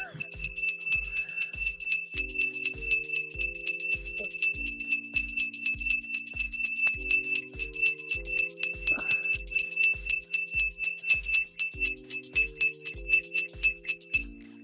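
Bell tones ringing over a steady background tune, a repeating melodic pattern of clear metallic chimes sustained for many seconds, fairly loud and close with no voices.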